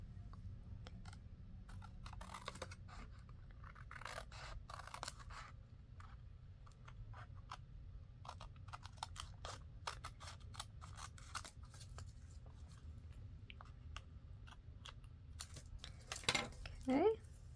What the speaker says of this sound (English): On the long side, I guess I better use my big scissors.